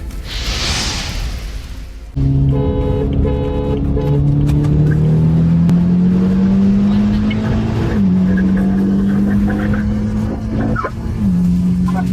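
A 400 hp Stage 3 tuned BMW F30 328 with an N20 engine and manual transmission races an M3 and M4, its engine roaring loud and close, climbing through rising gear pulls with brief shift dips after a quiet opening.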